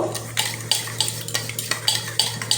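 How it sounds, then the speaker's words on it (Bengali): A spoon beats sour yogurt and sugar in a bowl for a phuchka topping, making quick rhythmic clinks and scrapes against the bowl, about a dozen strokes, close and without speech. "খুব ভালো করে আমি ফেটিয়ে নেব যতক্ষণ না চিনিটা গলে যাচ্ছে"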